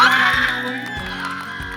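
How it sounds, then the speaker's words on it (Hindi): Students and guests at a Class 10th school farewell celebration cheer and whoop loudly for a student, a steady crowd roar with shouts rising over it and faint rhythmic thumps underneath. "आरोही के लिए जोरदार तालियां।"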